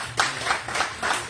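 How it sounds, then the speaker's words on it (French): Scattered clapping from a small conference audience in Gembloux, a few pairs of hands striking in a loose rhythm over about a second, fairly close and without talk. "quand il est là, vous pouvez l'applaudir"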